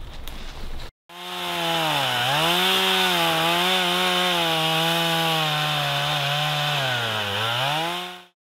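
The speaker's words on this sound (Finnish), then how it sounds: "Täällä on sahailut kovassa käynnissä" A chainsaw cuts wood at a forest campsite beside a tent, starting after a short burst of noise and running loud and close for about seven seconds, its engine pitch dipping and recovering as it bites into the log.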